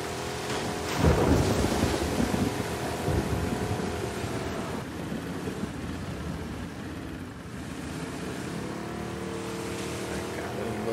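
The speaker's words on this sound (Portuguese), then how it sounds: "Essa chuva." Steady rain pours with a deep thunder rumble rolling through in the video game The Last of Us Part II, building early and fading into a continuous stormy wash.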